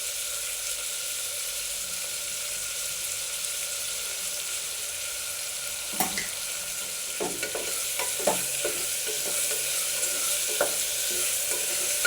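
Chopped vegetables for vegetable khichdi fry steadily in a pan, a continuous close sizzle broken by a run of scraping stirs in the second half, with no talking.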